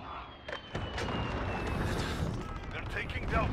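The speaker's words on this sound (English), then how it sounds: "Enemy cruise missile incoming." A cruise missile strike in Call of Duty: Modern Warfare lands as a loud, sustained blast of explosive rumble amid gunfire, with a sharp impact near the start and a long roaring tail.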